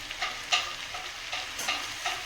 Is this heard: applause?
no